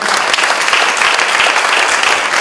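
A Rotary club audience applauding, a brief dense burst of clapping from a room of people, loud and close.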